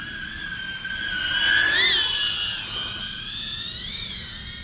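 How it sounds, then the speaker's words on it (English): Whining high-pitched buzz of an FPV DJI Avata drone fitted with Axisflying C157 motors, flying at steady distance with tonal pitch rising and falling as throttle changes, peaking in the middle before settling back. "the motor sounds so much smoother too"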